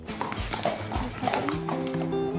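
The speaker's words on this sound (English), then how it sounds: "It's been lovely seeing Freya on a horse today" A horse walks in Melbourne, its hooves clip-clopping in a steady rhythm, near and fairly loud over outdoor background noise.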